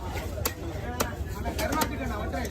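Fish being hacked apart by a cutter at the Kasimedu fish market, with several sharp, close chops landing at irregular intervals under steady talking and market background noise.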